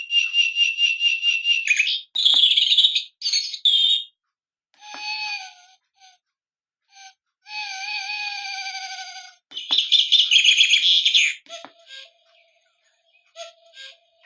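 A new bird clock plays a chiming series of electronic bird songs indoors: shrill whistled trills, chirps and warbling calls arrive in separate bursts with short silent gaps, loud and close.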